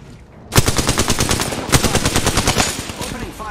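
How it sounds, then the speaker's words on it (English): Automatic weapon fire in Apex Legends starts abruptly and rattles in a rapid, steady stream of close, loud shots for about three seconds, with no talking. "Opening fire on the enemy."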